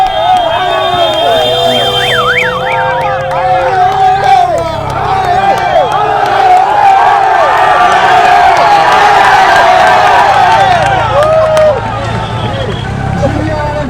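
Dense roadside crowd on the Tourmalet cheering and shouting as Tour de France riders pass, loud and close, with whistles, horns and passing motorbike engines in a continuous roar of voices.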